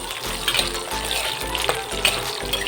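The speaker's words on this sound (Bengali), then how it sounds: "দেখুন আমগুলো খুব ভালোভাবে কষিয়ে নিচ্ছি।" Raw mango pieces sauté in a pan over a tempering of five-spice and cumin, giving a steady, dense sizzle with faint clinks from stirring throughout.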